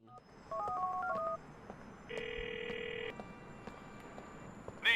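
DTMF tones of a phone being dialed in GTA IV, a short burst of beeps followed by a steady electronic ring tone, heard close and clear over a faint background hum.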